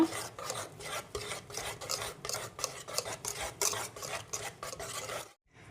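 A spoon stirs eggless cake batter flavoured with a few drops of essence, in quick, even scraping strokes around a bowl, about a dozen rhythmic rasps close up before a sudden stop.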